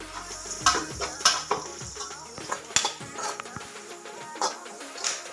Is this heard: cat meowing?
no